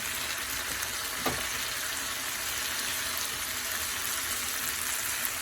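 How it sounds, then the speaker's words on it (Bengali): Onions and okra frying in a pan give a steady, dense sizzle throughout. One brief scrape of stirring cuts through early on. "তো এখন আমি আবার একটু নেড়ে দিচ্ছি।"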